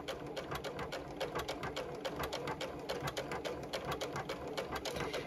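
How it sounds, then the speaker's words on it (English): A JUKI sewing machine triple stitching around a fabric bucket hat, a fast, even, close mechanical rattle of needle strokes running steadily at slowed speed throughout, with no talking. "I am going to slow down my machine, and I am going to do this triple stitch all the way around my hat"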